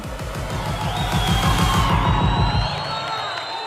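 A sports crowd cheers and whoops loudly for an athlete, a dense continuous roar of shouting voices over a rhythmic pounding beat.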